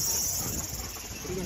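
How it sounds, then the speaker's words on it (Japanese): Cicadas on a hot summer walk near Mt. Fuji drone steadily in a dense, loud, high-pitched buzz that fills the whole moment without pause, with no speech over it. "すごいセミの音がしますよね。"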